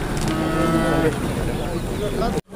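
Young bulls at a livestock bazaar in Jalalabad moo in long, drawn-out calls close by, layered over a busy market hubbub, ending in an abrupt cut.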